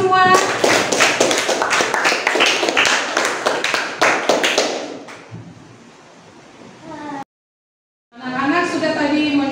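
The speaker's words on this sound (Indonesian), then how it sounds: "Kita kasih aplaus untuk kita semua." Schoolchildren in a classroom clapping together in rhythmic bursts of sharp hand claps, then fading into a lull before a voice speaks up at the end.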